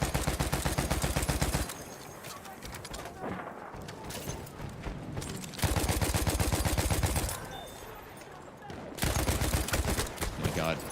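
Huot light machine gun in Battlefield 1 firing in three long sustained bursts, rapid loud rattling automatic fire with quieter gaps between, muffled game sounds in the pauses.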